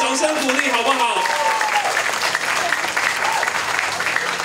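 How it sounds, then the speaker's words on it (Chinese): Steady, loud applause from an audience at a Taipei market-association gathering honoring a national chairman, with a voice speaking over the opening second before the clapping carries on alone. "我们再一次给全国会长掌声鼓励好不好"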